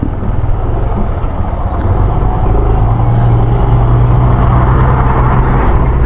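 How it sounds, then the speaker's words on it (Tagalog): A truck working at a road construction site near the Quezon bridge in Calauag, a loud continuous engine drone and whir that holds steady and close, with no talking. "yun yung truck yata ang ginagawa dun sa ano"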